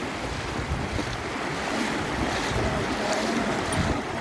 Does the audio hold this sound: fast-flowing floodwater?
yes